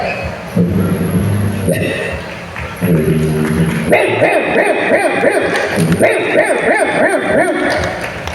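A voice imitates a dog growling on spotting a person, with low rumbling bursts that rise into sharp, yipping, bark-like cries, loud and close over faint background noise, at the Keraleeyam festival food court.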